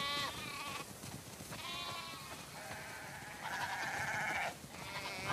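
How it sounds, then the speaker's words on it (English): Several sheep bleat one after another in the video game The Last of Us Part II, wavering cries overlapping at moderate distance with no talking. "Wow, that's a lot of sheep."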